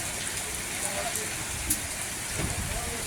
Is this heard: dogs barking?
no